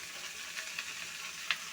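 Soft, steady sizzling as bottle gourd fries in a spice paste in a pan, with a faint stir or clink near the end; low in level and without speech.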